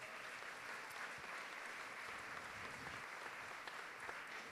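An audience at a music and songwriting event in Astaffort applauds warmly, a steady wash of clapping that holds evenly throughout at moderate distance.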